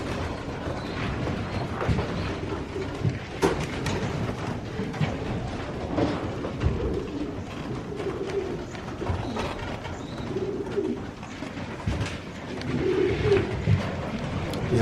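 Breeder pigeons in a loft cooing repeatedly in low, rolling calls, several birds at close range, with light shuffling and mechanical rattles in the background and no talking.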